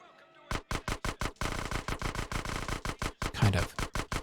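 Rapid bursts of SMG fire in Grand Theft Auto: San Andreas, a steady string of sharp, evenly spaced shots, loud and close, briefly thickening into a denser run mid-way.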